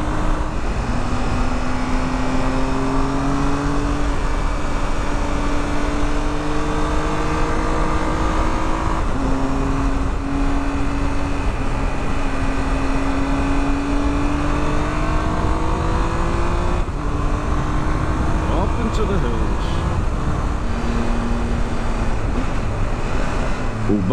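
A Triumph Tiger 1200 motorcycle pulls hard through the gears on a road in the Pyrenees, its engine note rising and dropping with each shift over steady loud wind rush.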